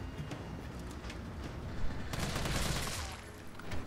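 Gunfire in the video game Resident Evil 3: dense, rapid bursts of shots that blur into a continuous rattling roar, fairly quiet and steady throughout with a swell in the middle.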